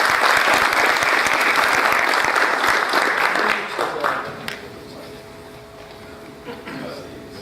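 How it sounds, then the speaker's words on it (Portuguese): Dense applause from an audience at a formal Brazilian heraldry and humanities award ceremony, loud and sustained for several seconds before thinning out and fading, leaving quieter room tone with faint residual claps. "Nossos aplausos ao senhor comendador."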